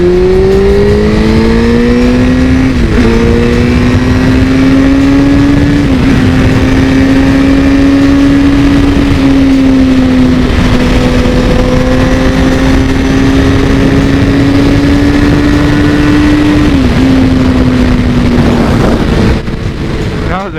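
A four-cylinder Honda CBR600 F4i motorcycle engine screams at high revs close by, around 90 km/h, pitch climbing and dipping through several gear changes over steady wind roar.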